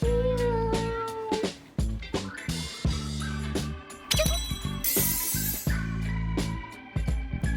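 A cat meows several times over a busy, loud background of music and sound effects, with tinkling bell-like chimes mixed in.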